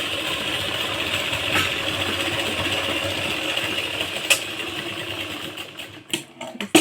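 A sewing machine runs steadily while stitching palazzo pants, giving a continuous close mechanical whir with rapid needle clatter that breaks into a few stops and short bursts near the end.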